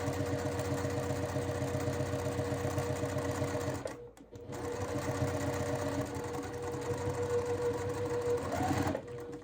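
A sewing machine stitches quilt block pieces in a steady, close, continuous whir, pausing briefly near the middle before running again.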